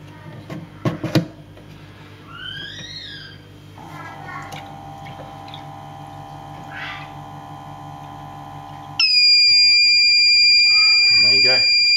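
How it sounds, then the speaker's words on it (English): An aquarium top-off controller's electronic alarm kicks in and sounds a continuous high-pitched tone as it cuts out the pump, after a few clicks and handling noises and some brief warbling beeps beforehand. "the box cuts the pump out and sounds the alarm"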